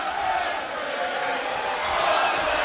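Arena crowd at an AEW Dynamite professional wrestling event cheering and shouting before a match, a dense, continuous roar of voices filling the space with steady loudness.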